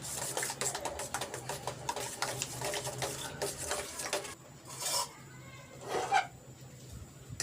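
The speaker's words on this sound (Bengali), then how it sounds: "ডিমটাকে আমি এইভাবে ফেটিয়ে নেব।" An egg is whisked with turmeric, black pepper powder and salt in a bowl. There are about four seconds of rapid, rhythmic clinking strokes, then a few slower scrapes, close and fairly quiet.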